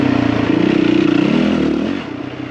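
A dirt motorcycle ridden on a trail, the engine droning loud and close with a steady pulsing buzz that drops off near the end.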